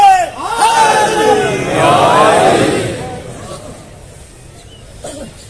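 Crowd at a Muharram majlis in an imambargah raising loud religious slogans together, a swelling mass of voices that peaks and then fades into quieter murmuring, with a brief final shout near the end.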